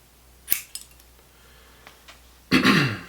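Scissors cut through a long length of synthetic fly-tying fiber for a baitfish fly, giving a couple of quick, crisp snips followed by a louder rustling crunch near the end.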